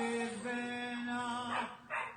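A dog barks in a drawn-out, melodic, almost singing way in the background, a sustained tonal howl-like bark followed by two shorter breathy yips, fairly faint and without speech.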